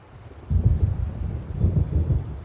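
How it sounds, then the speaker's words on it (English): Deep rolling thunder from an approaching storm in Alan Wake Remastered, starting after a brief hush and rumbling on in heavy low waves, loud and close, with no voices. "It seems there's a storm coming."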